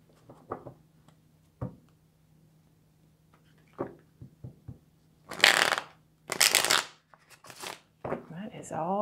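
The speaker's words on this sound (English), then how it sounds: "All that they want to be shuffled." Tarot cards being shuffled by hand in a few close, crisp bursts of riffling and slapping, separated by quieter taps and handling noises, with someone speaking toward the end.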